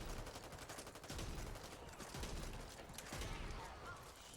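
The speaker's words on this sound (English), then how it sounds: "Okay, I shot that guy several times." Gunfire rattles in rapid bursts in the Back 4 Blood video game, with a busy, noisy mix of repeated shots over a steady low rumble at a fairly quiet level.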